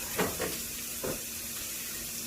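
Fish cooking in a pan gives off a soft, steady sizzle, with a few brief bursts of stirring or scraping near the start. A faint hum runs underneath throughout.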